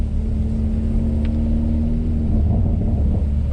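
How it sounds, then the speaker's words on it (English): A Hyundai i30N Fastback with a 3-inch Direnza flexi pipe idles with a deep, steady exhaust rumble and low burble heard from inside the car, close and continuous without speech. "I don't get to listen to my exhaust."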